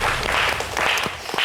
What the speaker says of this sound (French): On applaudit pour moi, s'il vous plaît.